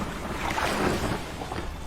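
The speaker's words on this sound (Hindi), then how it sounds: "मदन नाव को खे कर किनारे पर चल दिया।" A cartoon boat rowed through water, a soft, continuous wash of sloshing water and breezy noise at steady loudness with no distinct oar strokes standing out.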